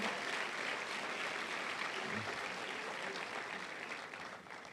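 A church congregation claps together in praise during a service, faint, steady applause heard from some distance that fades slightly toward the end.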